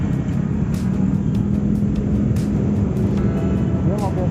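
A motorcycle taxi (ojek) races at full speed after a minibus, with a loud, steady engine roar and wind rush filling the whole ride without a break.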